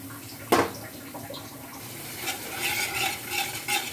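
Spice masala being fried and stirred in oil for muri ghonto: a close, continuous sizzle with scraping strokes and clinks as the spoon works through the pan, and no voices.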